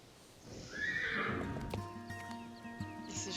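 A pony in the Star Stable horse-riding video game lets out a loud whinny, rising then falling, followed by a few hoof clops over soft game background music.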